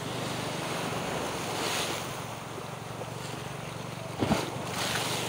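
Steady roar of strong ocean waves with wind buffeting the microphone, a brief louder crash of surf near the end.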